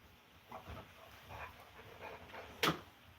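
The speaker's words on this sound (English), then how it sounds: "Crazy dog." A dog panting softly in a few quick breathy bursts nearby, ending with a brief sharp yelp-like sound, with no talking over it.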